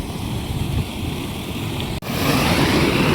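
Floodwater after heavy monsoon rain rushes through a drain channel, a loud, continuous broadband roar with a brief dropout midway before the torrent resumes even stronger.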